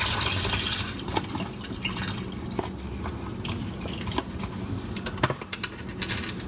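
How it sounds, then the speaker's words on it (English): Vegetable broth poured from a container into a pot for homemade vegetarian tomato soup, a steady close liquid splashing and trickling with small drips throughout, no talking. "Also going to add the whole container of the broth."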